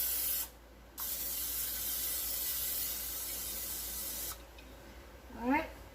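Cooking spray is sprayed onto a baking pan in two bursts, a long one then a short one, each a loud, steady hiss, followed by a brief clatter.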